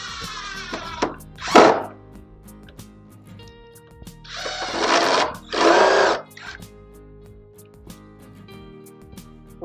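A power drill drives screws to fix a toggle clamp onto an 18 mm poplar plywood square, heard as several short, close whirring bursts separated by quiet gaps.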